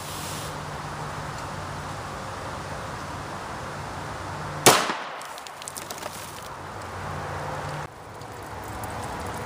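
A single sharp pistol shot from a Kel-Tec P-32 firing a 32 ACP MagSafe round outdoors, one loud crack with a brief ringing decay over steady background noise.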